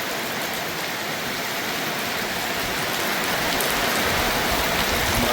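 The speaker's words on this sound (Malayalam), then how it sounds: "അത് ഭയങ്കര മഴ കേട്ടാ" Heavy rain falls steadily outside a pet shop, a loud, continuous hiss that swells slightly toward the end, with no one talking.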